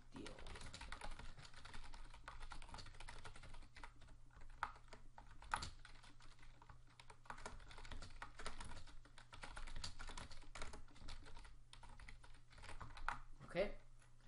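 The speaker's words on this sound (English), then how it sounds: "So in my text, I will type in this" Steady run of computer keyboard typing while an HTML page is entered, close and moderately quiet, with a low hum underneath and brief pauses between bursts of keystrokes.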